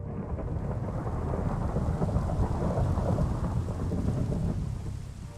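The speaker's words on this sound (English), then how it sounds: "Thunderstorms." A thunderstorm in the video game Minecraft gives a deep, sustained thunder rumble under steady rain. It is heard alone, with no voices.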